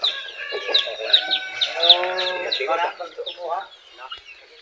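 Plymouth Rock chickens cluck and call close by on a farm, a dense overlapping run of short squawks and clucks from several birds, fading toward the end.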